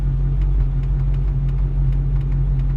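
A 1961 Rambler engine runs with no coolant in it, giving a steady close low rumble with a faint regular ticking pulse throughout.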